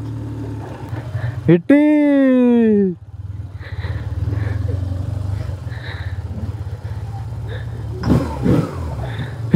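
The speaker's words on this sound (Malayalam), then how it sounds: "ഈ ബൈക്കിൻ്റെ ഒച്ചയൊക്കെ കേട്ടോ" A motorcycle engine runs with a steady low drone throughout, with a loud tonal sweep partway through and people talking over it.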